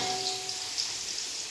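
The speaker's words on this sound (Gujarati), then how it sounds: "તો આપણું તેલ મુકાઈ ગયું ને તેલમાં આપણી સેજ જીરું સેજ રાઈ આપણે હિંગ નાખી દઈએ" Cumin, mustard seeds and asafoetida sizzling in hot oil while making samosas, a steady soft crackling hiss with faint tonal hum beneath and a brief clatter at the end.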